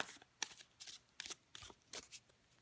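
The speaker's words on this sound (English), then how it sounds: "so just perfect for some side shuffling" Tarot cards being side-shuffled in a series of quick, soft riffling bursts, close and quiet, with brief pauses between them.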